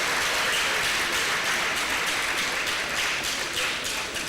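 An audience applauds the announcement of a new optometry faculty, a dense, continuous patter of many hands clapping at a steady level, with no talking over it.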